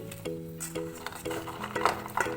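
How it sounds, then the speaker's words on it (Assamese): Cauliflower pieces dropped into a pot of boiled water, giving light clinks and clatters of metal cookware with soft splashy handling noises, close and fairly quiet. "এয়া পানী মই বইল কৰি থৈছোঁ, তাতে দিম মই ফুলকবি।"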